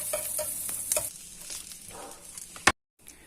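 Butter sizzling and frying in a hot pan while being stirred, a bright close hiss with scraping accents, ending in a sharp clack before a brief silence.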